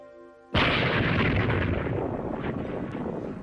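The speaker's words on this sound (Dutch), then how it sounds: "De gammastralen die vrijkomen bij de explosie veranderen Banner in een beest" A gamma bomb detonates with a sudden deep, loud blast that rolls into a long, sustained roaring rumble, slowly fading, following a brief musical passage.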